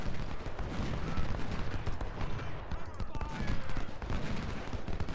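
Battle gunfire in Ultimate General, crackling volleys and scattered shots layered into a busy, steady din of combat, with someone talking over the shooting.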